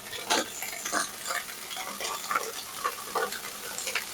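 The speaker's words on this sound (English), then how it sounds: "I'm going to add potatoes, hash browned potatoes." Hash browned potatoes fry in a crust skillet with a quiet, steady sizzle broken by soft intermittent crackles and pops, fairly faint and with no talking.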